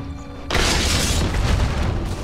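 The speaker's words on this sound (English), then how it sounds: "His middle tower has fallen." An enemy middle tower falls in the video game Dota 2 with a loud, sudden, broad rumbling boom that fills the clip and holds steady to the end.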